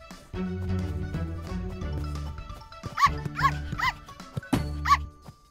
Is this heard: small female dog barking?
yes